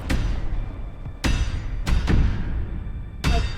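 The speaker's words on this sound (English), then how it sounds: "that is the sound of a mine collapse" Mine collapse in the Scarlet Hollow video game, heard as several sharp, loud thuds and knocks spaced irregularly over a low rumbling bed.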